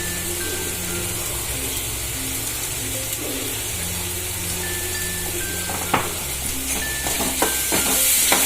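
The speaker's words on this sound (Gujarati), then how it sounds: "ડુંગળી સોતે થાય છે" Finely chopped onions sautéing over high heat with turmeric and a spoon of salt give a constant close sizzle, broken by a few stirring scrapes and clicks toward the end, with no voices.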